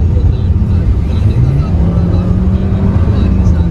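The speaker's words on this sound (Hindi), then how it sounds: "It's literally हाउलिंग guys, the car is raving." A 2021 Hyundai Creta SX(O) turbo engine revs in sports mode, a loud, sustained droning engine note with a rising pitch sweep midway, steady throughout with talk-like sounds mixed in.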